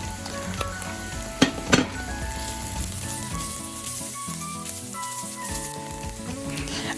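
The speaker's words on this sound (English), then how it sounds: "Fry onions and add the spices." Onions and spices fry in a pan as the base of a sauce for turkey meatballs, a steady close sizzle with two sharp utensil clanks early on, no talking.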